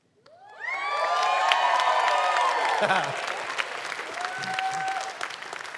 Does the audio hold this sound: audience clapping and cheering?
yes